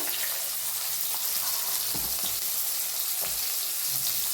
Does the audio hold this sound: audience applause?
no